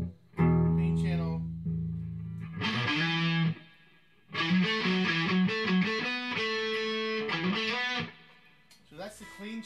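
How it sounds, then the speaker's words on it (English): An electric guitar played through a Boss DS1 distortion pedal into an amp's clean channel rings out in sustained, gritty chords and note runs, separated by short silences. "that's the clean channel with a DS1 distortion hooked into it"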